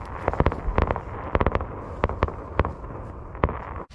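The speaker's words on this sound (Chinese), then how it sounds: "刚想做饭，突然放起了烟花来了" Fireworks bursting outdoors on a freezing night near a parked camper van, a rapid irregular series of sharp loud cracks and booms over a steady crackling rumble, ending abruptly.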